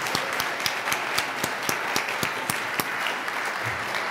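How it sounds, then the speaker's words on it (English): Steady audience applause for a choir at an evening event on nonviolence, a thick wash of many hands with a few louder individual claps standing out, moderately distant. "Another round of applause, please."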